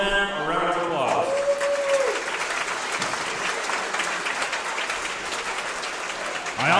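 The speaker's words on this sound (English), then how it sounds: "Let's just take a moment to give all of them a round of applause." Steady crowd applause at a wrestling tournament, thanking the event helpers, sustained for several seconds at moderate volume with a brief voice over the start and end.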